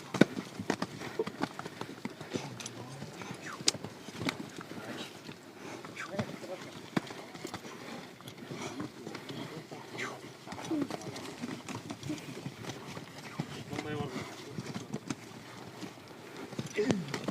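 Horses of a team move on ground, their hooves making soft, irregular clopping under continuous talk by several people nearby.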